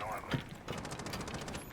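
Rapid automatic gunfire from the video game Rainbow Six Siege, a fast regular burst of shots under a commentator's voice, fairly faint.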